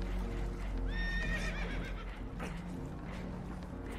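Spooked horses neighing in Red Dead Redemption 2, one shrill whinny rising and falling over a low rumbling background, with fainter hoof and creaking sounds after it.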